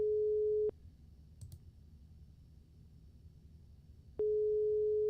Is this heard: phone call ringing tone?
yes